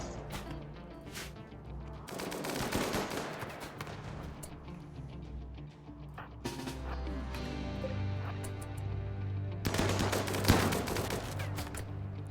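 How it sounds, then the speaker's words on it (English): Automatic gunfire erupts in RimWorld in dense bursts separated by quieter gaps, fairly loud and without talk. "But they should automatically start firing"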